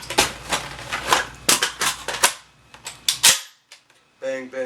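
A semi-automatic magazine-fed shotgun such as a Saiga or Vepr fires a rapid string of loud, close shots until the magazine runs empty, followed by a short mechanical clatter.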